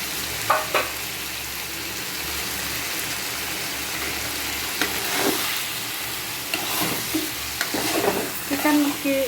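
Chicken curry is stirred in a pan over a steady sizzle, with a spoon scraping and clattering in irregular bursts that get busier toward the end. A soft hiss runs throughout.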